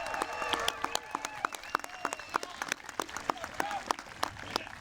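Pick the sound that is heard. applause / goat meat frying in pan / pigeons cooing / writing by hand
applause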